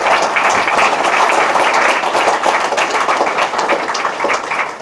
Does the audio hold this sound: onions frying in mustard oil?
no